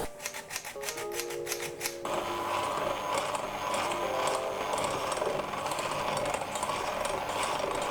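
Electric hand mixer with whisk beaters mixing vanilla sponge cake batter, a steady loud whirring drone that starts after a brief clicking intro and runs on alone.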